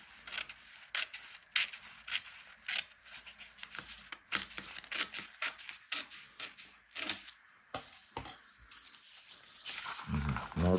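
Scissors snipping through a sheet of colored A4 paper, giving a run of short, crisp cuts with irregular pauses and some paper rustling in between, close and moderately loud, with no talking.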